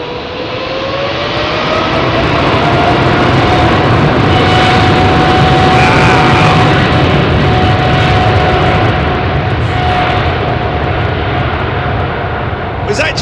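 An airliner takes off from runway 27R at London Heathrow Airport with a loud, close roar of jet engines that swells and holds steady, with a whining tone running through it and voices talking underneath.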